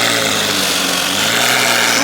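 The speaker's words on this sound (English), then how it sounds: "cars started revving, started going crazy, nice cars started pulling up, started doing revving competitions out here" A supercar engine at a car meet, a loud steady mechanical roar with a rough buzzing drone held at one level throughout, no voices.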